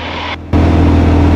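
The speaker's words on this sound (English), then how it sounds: "if you just put the audio soundtrack down of the engine sound, this is, it's got to be overpowering" Loud aircraft engine noise fills a cockpit, a steady roaring drone with a low hum that cuts out briefly, then returns at full strength.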